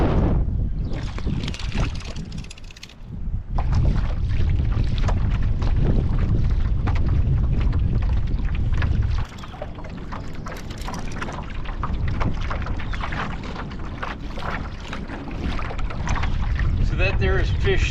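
Steady wind buffets the microphone on a lake while fishing from a boat drifting backwards, a loud continuous rush with water sounds, briefly easing near the start, and someone talks over it.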